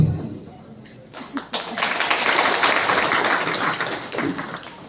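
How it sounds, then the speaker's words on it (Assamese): Applause from a school audience builds after a quiet opening and continues as dense, steady clapping for several seconds. Intermittent sharp taps stand out within it, and no voices are heard. "আপোনালোকে হাত চাপৰি মাৰিছে মোৰ ভাল লাগিছে"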